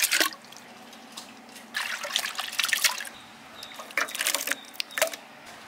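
Water splashes and trickles in uneven bursts as goat intestine is washed by hand, close and moderately loud with quiet gaps between the sloshes.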